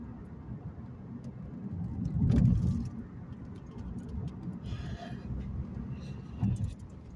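Manual transmission car rolling through a turn in second gear, a steady low engine and road rumble with a brief swell in the middle and another near the end, no talk.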